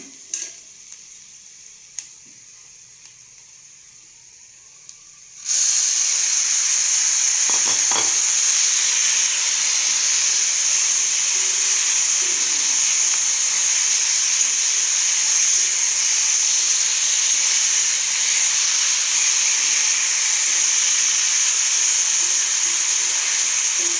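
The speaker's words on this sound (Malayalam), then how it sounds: "നമുക്ക് തേങ്ങ വറുത്ത് വെച്ചത് അരച്ചെടുക്കാം" An electric mixer grinder grinds roasted coconut, starting abruptly after a quiet kitchen moment and running as a loud, steady, high whirring roar that continues without a break.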